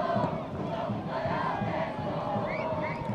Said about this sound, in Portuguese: E a torcida do Vascão na Gama está aí.